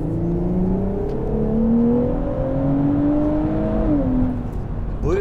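Nissan Fairlady Z Version ST with a V6 engine over 400 horsepower, revving steadily under acceleration and shifting near the end, with a loud, continuous drone and rising pitch, heard from inside the car.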